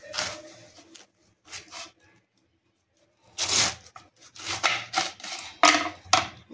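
A knife cuts through a purple cabbage in short crunchy bursts, a couple of slices, a pause, then a quicker run of crisp chops close by, with no talk.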